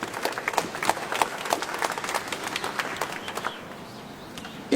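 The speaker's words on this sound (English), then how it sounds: "you all can give another round of applause for God and all that he's doing for us." Audience applauding at an outdoor justice rally and prayer vigil, a dense burst of clapping that gradually thins out and fades near the end, with faint crowd noise beneath.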